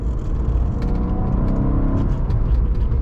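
Engine and exhaust of a 2006 Maserati Quattroporte M139 while driving, a steady low rumble and whir heard from inside the car, continuous and fairly loud with no talk.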